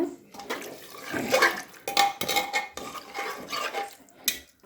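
A spoon stirs and scrapes a broiler chicken biryani mixture in a metal pot, giving irregular close clinks and wet shuffling sounds with no talking.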